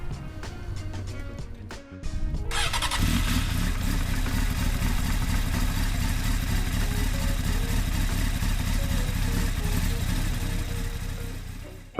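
Honda Hornet 919 motorcycle engine starting after a few cranks and running at a steady, loud idle close by, a continuous throbbing drone that holds to the end.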